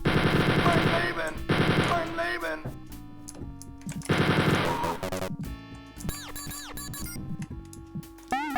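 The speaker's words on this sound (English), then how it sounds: "Again with random machine guns." Rapid bursts of machine gun fire from the Wolfenstein 3D video game ring out loud and close, with gaps between volleys and other game effects and tones in between.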